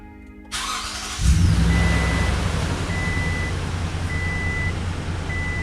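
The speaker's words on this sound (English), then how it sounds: "So let's start the truck up." A Toyota Tundra pickup's engine cranks and catches after a quiet moment, then settles into a steady, close idle while a chime beeps at regular intervals.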